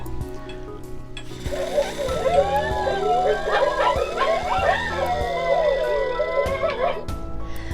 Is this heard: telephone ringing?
no